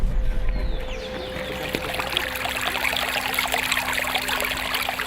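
River water trickles and flows steadily near an old town, a soft continuous babble with a faint hum in the background.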